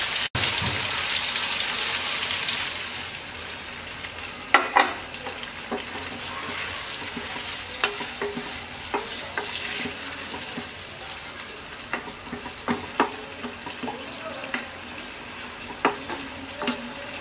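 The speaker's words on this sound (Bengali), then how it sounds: "এবার আমরা 1 কাপ পানি দিয়ে 5-7 মিনিট রান্না করব মিডিয়াম আঁচে।" Curry with drumsticks, lentil and prawn fritters simmering in a pan on medium heat after a cup of water is added, giving a continuous soft bubbling hiss with scattered small pops and light clicks.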